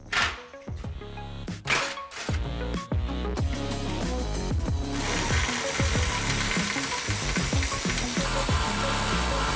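A ratchet clicks in short bursts while loosening a 15mm clamp nut on the exhaust of a 2017-2018 Ford F-150 Raptor, followed by a steady, dense mechanical whir.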